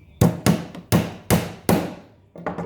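A small nail is hammered into timber, held by a magnetic handyman tool: five sharp, close, ringing hammer blows at a steady pace, then two quicker lighter taps, no talk.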